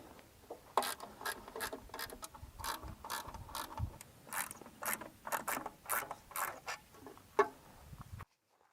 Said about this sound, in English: remove the 4 Torx screws that live behind the old third brake light